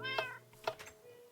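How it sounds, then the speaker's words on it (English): A tamed black cat in Minecraft gives two close, clear meows about half a second apart, followed by a softer trailing mew, with no talking. "And we have a black cat."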